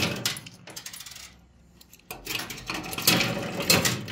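Metal coins clatter and tumble in a coin pusher arcade machine, bursts of jangling drops separated by a brief lull, then a busier cascade of clinks toward the end.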